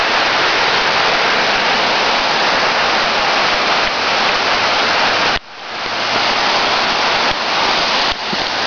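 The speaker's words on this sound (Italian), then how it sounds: "Vi faccio vedere la cascata." Waterfall roaring in a steady, broad rush of falling water, loud and continuous, with a brief dip partway through before the roar returns at full strength.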